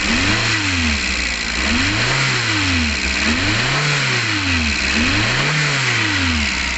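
A Suzuki Landy's G13 four-cylinder engine is revved repeatedly, about five rises and falls in pitch in a steady rhythm, loud and close with no talking.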